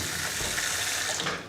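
A tap runs water steadily inside a house built from waste plastics in Ghana, giving a close, continuous hissing stream with no speech.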